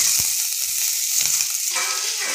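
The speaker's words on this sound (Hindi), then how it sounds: "प्याज हल्का फ्राई हो गया है, इसमें शिमला मिर्च डाल करके इसे भी थोड़ी देर के लिए पका लेंगे।" Chopped onion and capsicum fry in a kadai with a constant, close hiss and crackle of hot oil, and no talking.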